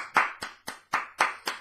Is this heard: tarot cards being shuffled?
no